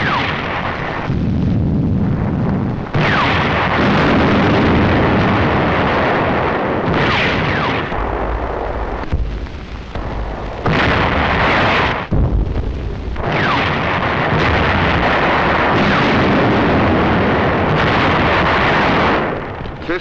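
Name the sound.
WWII tank battle gunfire and explosions in Tunisia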